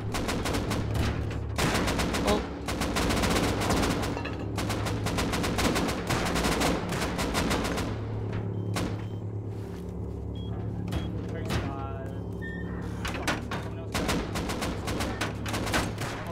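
Dense bursts of automatic gunfire rattle through a Rust firefight, with layered volleys and sharp shots stacking over a steady engine-like drone, while players talk over the near-constant shooting.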